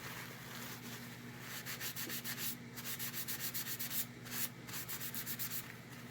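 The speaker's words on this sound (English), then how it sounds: "on a paper towel and then wipe it down." A paper towel soaked in strong cleaner wipes down a Lionel VW transformer's Bakelite case, giving a steady, close rubbing swish in quick repeated strokes with no talking.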